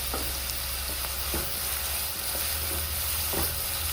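Chopped filling sautéing in a hot pan makes a continuous dense sizzle, close and loud, with occasional soft stirring knocks and no talking.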